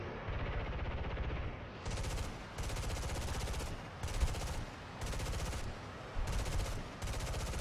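Repeated bursts of aircraft machine-gun fire from a Canadair CL-13 jet in the War Thunder combat game, heard as about six rapid rattling volleys of a second or so each over a constant engine drone.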